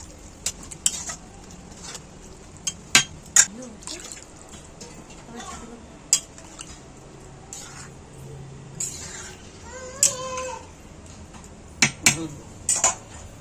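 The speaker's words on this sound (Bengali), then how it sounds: "দিয়ে একটু নেড়ে নিয়ে আবারও দিয়ে দিচ্ছি কিছুটা পরিমাণ জল।" Water added to a pot of boiled banana stem curry, with metal spoon clinks and scraping as it is stirred, sharp scattered knocks over soft sizzling and bubbling, and a voice speaking in between.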